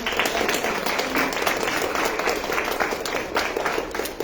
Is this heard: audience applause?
yes